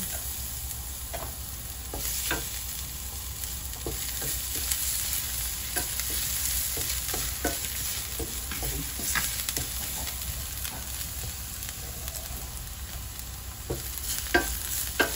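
Garlic sizzles and crackles in a small amount of oil in a pan for pakbet, a steady close frying hiss broken by frequent scraping stirs and clinks, with no talking.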